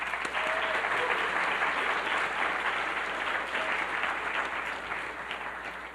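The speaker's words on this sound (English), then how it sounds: "so a round of applause for our volunteers." Audience at an evening artist talk applauding the volunteer team, a dense steady wash of clapping heard throughout, fairly even and sustained, tapering slightly at the close.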